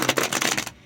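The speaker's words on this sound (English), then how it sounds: "I'm going to start shuffling and do a little bit more." Tarot cards being shuffled by hand, a quick run of crisp riffling flutters lasting under a second before stopping, close and fairly loud with no talk.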